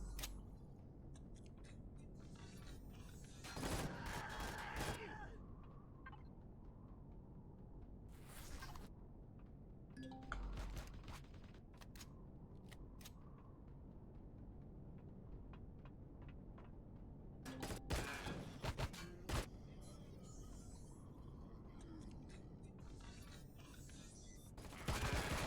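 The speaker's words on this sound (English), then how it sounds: "took some shots from the sentry gun" A sentry gun fires sharp, scattered shots in the video game Empyrion Reforged Eden, with short bursts coming at irregular moments against a faint, quiet background.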